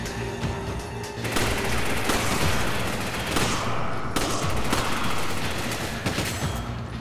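Sustained gunfire in the video game Resident Evil 5, with dense, rapid bursts of shots and heavy booms running continuously at high loudness and no speech over it.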